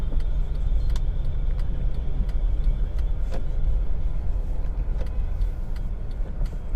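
Car slowing down in traffic, heard from inside the cabin: a steady low engine and road rumble with faint ticking clicks, moderately loud and unbroken, with no talking.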